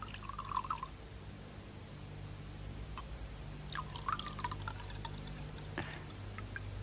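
A drink poured into a glass at a New Year's evening gathering at home, a faint short trickle and drip of liquid over quiet room background, no one speaking.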